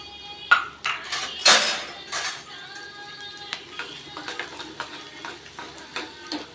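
Dried unsalted manathakkali berries, cumin and fenugreek frying in oil in a pan, a soft sizzle under scattered clinks and scrapes of a stirring spoon against metal.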